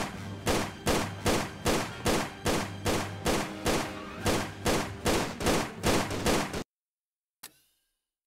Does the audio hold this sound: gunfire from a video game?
yes